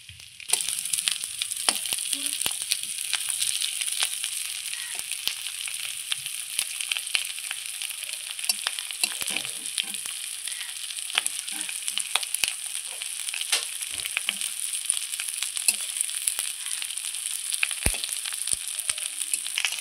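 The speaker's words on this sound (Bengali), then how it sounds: "এখন আমি তেলটা দিয়ে খুব সুন্দর ভালো করে ভেজে নেব, লাল লাল করে ভেজে নেব।" Spiced taro pieces sizzle and crackle steadily in hot oil in a home kitchen, a continuous bright frying hiss punctuated by occasional stirring clinks and pops, with no talking.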